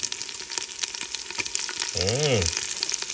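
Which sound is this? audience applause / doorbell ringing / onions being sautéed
onions being sautéed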